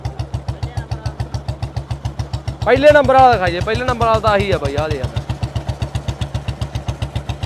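A motorcycle engine idles close by with a fast, regular putter throughout at a village race event, while someone speaks briefly over it in the middle.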